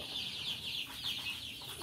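Young Tiger breed chicks cheep in a steady, faint chorus of overlapping high peeps, continuous and unbroken throughout.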